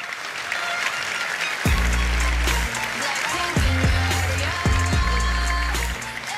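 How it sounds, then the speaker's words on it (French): At a rugby awards night, an audience applauds a former France captain with loud, sustained clapping. Booming low musical notes enter and repeat beneath the applause. "Veuillez applaudir Philippe Saint-André."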